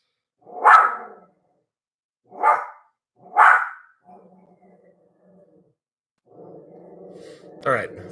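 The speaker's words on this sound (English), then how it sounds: "Pause for my dog to viciously defend us all here." A pet dog named Milo barks three sharp times indoors, followed by a low growl and a final yip, loud and close, with a person softly speaking in the gaps.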